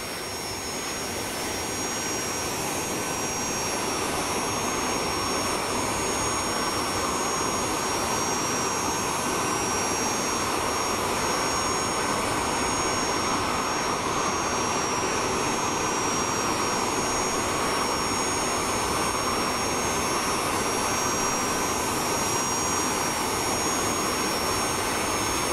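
Lockheed JetStar jet engines in Microsoft Flight Simulator 2020 give a loud, steady, unbroken roar with a high whine on top, holding constant for the whole stretch with no voices.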